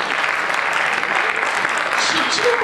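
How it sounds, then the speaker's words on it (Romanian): An audience at a children's a cappella music show applauds, a dense, even wash of many hands clapping that holds steadily from start to finish. "Domnilor și domnilor, aplauze!"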